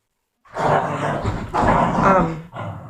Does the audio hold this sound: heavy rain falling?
no